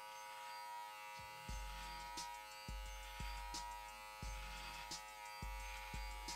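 A Brio Beardscape trimmer buzzes steadily up close while cutting a coarse, coily beard, its hum dipping and catching in short repeated strokes about once a second, with no speech.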